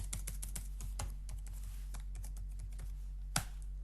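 Password typed on a computer keyboard: a quick, uneven run of close, crisp key clicks with one louder keystroke near the end, over a low steady hum.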